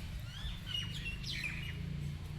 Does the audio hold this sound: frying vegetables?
no